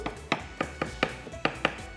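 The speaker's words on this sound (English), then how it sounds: "I will continue to cut the bamboo shoot." Knife chopping through bamboo shoot in eight sharp, fairly regular strokes on a board, close and crisp, with no talking.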